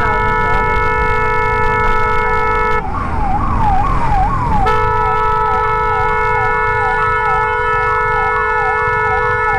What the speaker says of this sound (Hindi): एम्बुलेंस वाले को ना जगह नहीं दे रहे हैं गाड़ी वाले टोटली भी